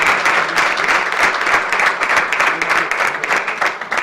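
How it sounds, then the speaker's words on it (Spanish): Dense, steady audience applause at an academic lecture session, loud and continuous throughout with no talk over it. "Un aplauso, por favor."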